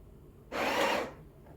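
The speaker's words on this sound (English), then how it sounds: "if you don't want to grind for the whole amount, you can just hold it, and it will grind for as long as you hold it" A Breville Barista Express BES870 grinding coffee beans, one short burst of whirring, gritty grinder noise of about half a second, near and moderately loud against a quiet room, no talking.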